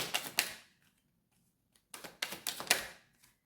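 Tarot cards are pulled from a deck and shuffled in two quick bursts of soft papery flicks and taps, close and quiet, with a short silent gap between them.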